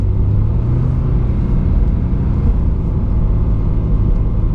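Subaru BRZ on all-season tires sliding through snow, heard as a steady, loud low engine drone and road rumble that holds throughout with no talking.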